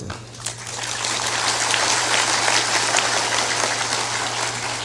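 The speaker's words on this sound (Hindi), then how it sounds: "थोड़ा जोरदार ताली बजाया करो" Applause from a satsang audience in Bihar swells up after a brief pause and holds as a dense wash of many hands clapping, with a steady low electrical hum underneath.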